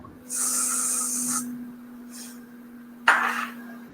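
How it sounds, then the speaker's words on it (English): A can of whipped cream sprays in a steady hiss for about a second, followed by a softer short spurt and a brief louder sputter, during a cooking class. "Spray cream"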